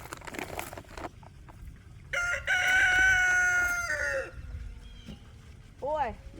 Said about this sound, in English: Mr. Rooster, he's sounding off this morning.